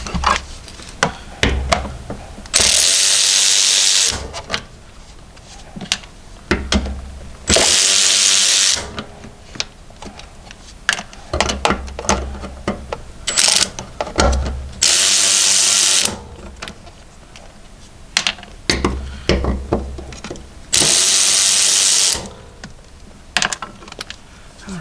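Power socket tool running in repeated short bursts, removing 8mm bolts from a Lexus LS430 fuel pump, loud high whirring spells separated by quieter clicks and handling noises.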